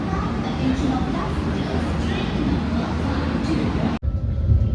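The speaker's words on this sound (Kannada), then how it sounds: "ನಮ್ಮ ಟ್ರೈನ್ ಇಟಾರ್ಸಿ ಇಂದ ಡಿಪಾರ್ಚರ್ ಆಯ್ತು" A passenger train pulls out of Itarsi Junction in Madhya Pradesh with a steady low rumble heard from on board. Voices murmur over the noise, and the sound shifts abruptly near the end.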